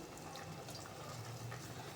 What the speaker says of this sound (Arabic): وبحط لها بقى ايه شويه ميه مغليه كده بعد ما بتتشوح